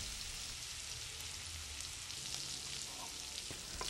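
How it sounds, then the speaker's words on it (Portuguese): Garlic and chopped green herbs frying in olive oil in a pan, a steady close crackling sizzle with scattered small pops throughout, no voices. "Frite um pouco de alho com um pouco de cheiro verde."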